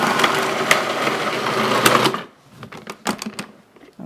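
Countertop blender whizzing plain chickpeas for homemade hummus, a loud steady grinding whir for about two seconds that then cuts off, leaving a few clatters and knocks from the appliance.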